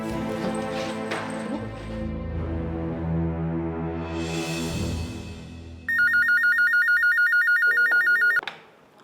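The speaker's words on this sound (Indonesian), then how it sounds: "Maaf Bu, ada telepon dari Pak Restu di line 1" A telephone rings with a rapid electronic trill over a musical background, loud and close, sounding for a few seconds before cutting off.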